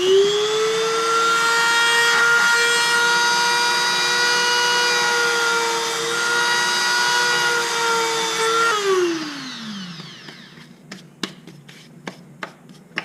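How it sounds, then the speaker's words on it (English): Handheld powered sanding tool run along the edges of a small wooden piece for a homemade fidget cube: a steady, loud, high whine that spins down around the ninth second, followed by several sharp, scattered clicks. "that was like a sanding tool. I kind of just went along the edge just so that they're not like sharp"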